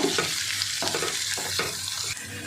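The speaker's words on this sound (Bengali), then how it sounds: "একটু ভেজে নেব" Potatoes and onions sizzle and crackle as they fry in a pan, a close, steady hiss with brief stirring surges throughout.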